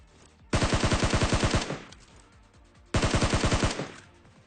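Gunfire in a battle royale video game: two loud, rapid bursts of a dozen or so shots each, a couple of seconds apart, close and sharp with short echoing tails and no talk.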